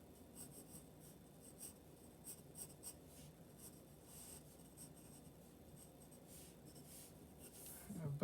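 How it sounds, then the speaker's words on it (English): Pencil lines drawn on paper for a figure sketch, a faint, close, continuous scratchy stroking that goes on throughout with small brief pauses. "So just draw some lines on there."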